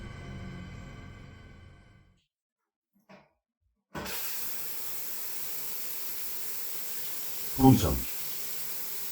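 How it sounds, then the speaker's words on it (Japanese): A shower runs in the Rimworld video game, a steady hiss of spraying water that starts abruptly after a voice and a short silence, with a brief louder splash or voice near the end. "とりあえずシャワー浴びて着替えてくる"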